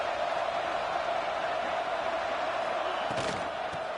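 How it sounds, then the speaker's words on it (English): Packed football stadium crowd at an Ole Miss game roars in a continuous, dense wall of cheering and shouting, loud and sustained, with a brief surge of yells near the end. "this crowd is ready"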